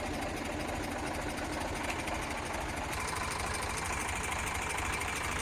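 An Eicher 485 tractor engine, with no faults in the PTO, gears or hydraulics, runs steadily nearby with a loud, even diesel chug and knock and no pauses.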